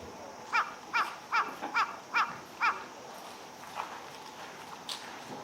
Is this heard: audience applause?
no